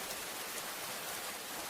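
Steady rain falls at night, a dense, even hiss of drops with no breaks and no voices.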